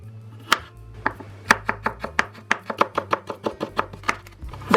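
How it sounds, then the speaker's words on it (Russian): A knife cuts ginger into thin strips on a cutting board, quick even strokes repeating close by with no voices. "Тонкой соломкой режу имбирь."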